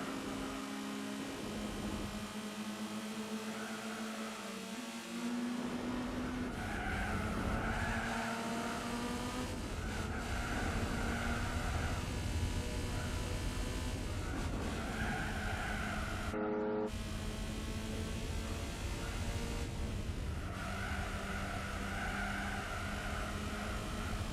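A Mazda Miata racing in Gran Turismo 4, its engine droning steadily with rising and falling revs across gear changes while tires squeal and skid through corners, continuous and loud with no talk.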